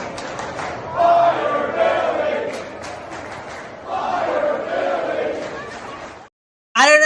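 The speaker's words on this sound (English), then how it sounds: "This is what the fans are going to be cheering on the way out of the stadium." A Florida stadium crowd chants "Fire Billy" in loud, rhythmic waves of massed voices, two long bursts separated by a brief dip, then a sudden cut to silence before a final snatch of noise.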